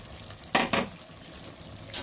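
Coriander chicken sizzling in a pan as green coriander-chili paste is stirred in, with two brief scraping stir strokes over a soft steady fry and a faint clink near the end.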